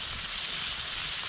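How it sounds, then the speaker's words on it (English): Blackened catfish fillets sizzling in a very hot frying pan at a winter desert camp, a steady, soft hiss with no talking. "Now let's go get a frying pan really hot. Time to fry."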